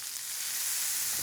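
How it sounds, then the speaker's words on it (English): A hamburger patty seasoned with salt and black pepper sears in a hot pan, giving a steady, bright hiss of sizzling fat that runs unbroken and fairly close, with no talking. "Now let that sear for about 2 to 3 minutes."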